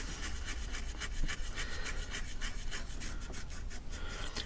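A brush scrubs steadily at a coin to strip its patina, working around the lettering at the rim, making a close, continuous raspy rubbing with quick rhythmic strokes at low level.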